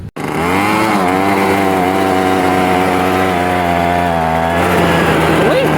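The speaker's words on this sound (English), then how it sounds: "Damn leaf blower's bogging because it's so cold out." A small gas leaf blower engine bogs in freezing weather. Its loud, close, rough drone holds at a laboring pitch, wavering and sagging near the end, with no talk over it.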